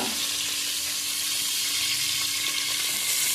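Coconut oil and a little ghee sizzle steadily in a hot pan, a close, loud, even crackling hiss that holds without pause and with no voices over it.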